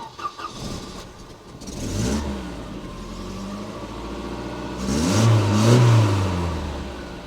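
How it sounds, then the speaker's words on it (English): A high-mileage Volvo car with over 430,000 miles, bought at auction, starts up and settles to idle, then gets a couple of throttle blips that swell into a louder rev near the end, heard close with no talk. "when I say just start it, and then when it's running, give it a couple of blips and we'll just see how bad this smoke is"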